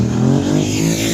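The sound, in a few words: old Kawasaki motorcycle revving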